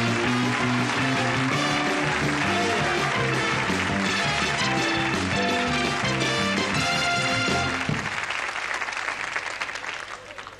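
A TV studio audience applauds as a performer walks on, clapping over loud brassy band music that fades out near the end while the applause continues.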